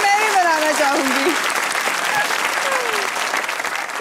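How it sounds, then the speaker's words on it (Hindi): A studio audience on the Pakistani comedy talk show Hasna Mana Hai claps in loud, dense, sustained applause, with a voice briefly calling out over it at the start. "वो तालियां बजाएं।"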